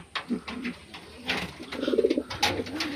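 White Lakka pigeons in a breeding loft coo in short, repeated throaty bursts, close and fairly loud, with wing and shuffling noises between calls.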